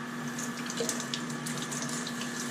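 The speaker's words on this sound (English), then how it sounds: "I'm just going to try to rinse some of the sand out" Water runs from a tap to rinse sand from the filter media of a Fluval 406 canister filter, a continuous, even splashing rush with a steady low hum beneath it.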